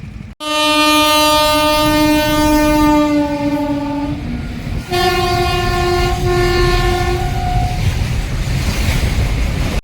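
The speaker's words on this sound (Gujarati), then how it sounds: "ટ્રેન આવવાની તૈયારી છે" A train arriving at a station near Mahuva sounds its horn in two long, loud blasts over the rumble of the approaching cars, with no talk.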